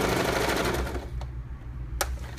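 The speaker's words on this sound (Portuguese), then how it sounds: "Vamos pra máquina. E vamos passar, fazer um rebate aqui de costura." A portable sewing machine runs a topstitch along a fabric seam, with a dense, steady mechanical chatter in the first second that then fades to quieter, sparser ticks.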